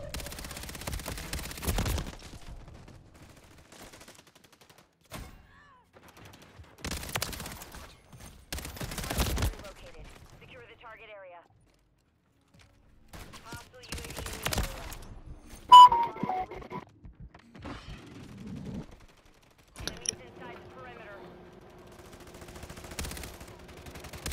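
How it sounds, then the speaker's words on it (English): Gunfire in Call of Duty comes in short, scattered bursts separated by quiet gaps, with a few sharp single shots and faint beeps in between. "I shot before he shot me."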